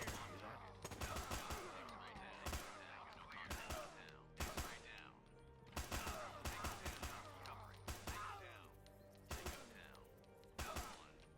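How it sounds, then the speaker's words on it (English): Gunfire in a video game mission replay, heard as repeated bursts of rapid automatic shots separated by short pauses, fairly quiet overall and mixed with game sound effects. "There was lots of shooting"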